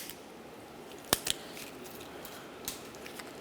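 One sharp snip and a quick follow-up cut as a strap is cut off a new rear shock absorber for a 2004-2009 Mazda 3, then a faint click, all against quiet room noise.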